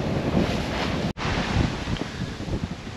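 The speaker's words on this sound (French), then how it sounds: "les vagues elles nous mouillent tout le bateau" Waves wash over a sailing boat off the Scottish coast near Cromarty, a continuous loud rushing of sea and spray mixed with heavy wind buffeting, cut by a brief dropout.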